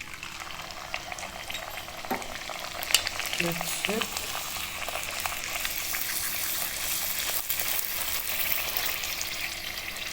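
Fuchka puris deep-fry in hot oil on a home stove, giving a continuous bubbling sizzle with a few faint clinks and stirs near the start.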